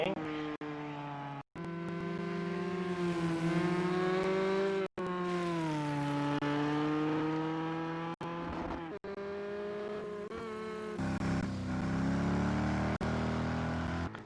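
A Ford GT race car engine in Project Cars 2 at Le Mans drones steadily at a low, throaty pitch, rising and falling as it revs, with a few abrupt cuts, like racing game audio.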